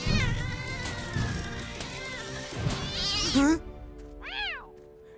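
A cat meows a couple of times with rising-falling cries near the end, after a stretch of excited talk and background noise in an animated children's show.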